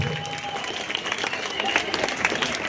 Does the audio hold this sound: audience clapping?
yes